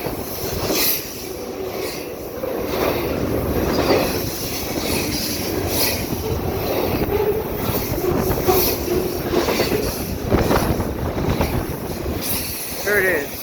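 A CPKC double-stack freight train led by a heritage SD70ACU locomotive rushes past close by at speed in St Anne de Bellevue, wheels clattering and squealing steadily over a windy background.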